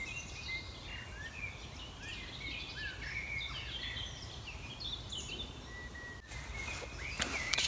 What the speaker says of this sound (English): just listening to those birds.